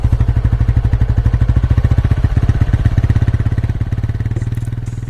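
A TVS 125 motorcycle's exhaust note, a steady, close and loud rapid thumping pulse with even rhythm throughout, no speech over it.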